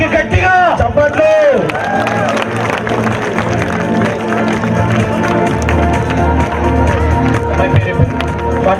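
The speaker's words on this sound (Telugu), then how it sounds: "5K ఉమెన్స్ కి గట్టిగా చప్పట్లు." A crowd applauds for the women's 5K finishers at the Husnabad half marathon, a dense, steady clatter of clapping running throughout, with an announcer's amplified voice talking over it at the start.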